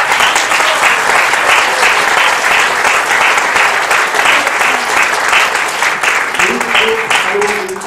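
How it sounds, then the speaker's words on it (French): Sustained applause from an audience at a public talk about an old astronomical observatory tower, dense and steady clapping filling the whole stretch, with faint voices surfacing near the end. "merci, on peut l'applaudir."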